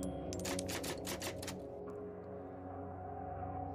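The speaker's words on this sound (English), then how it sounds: "Oh, it's typewriter." A typewriter at a Resident Evil 4 Remake save point clacks out a quick run of about eight keystrokes, crisp and close over a steady low ambient hum, then falls quiet.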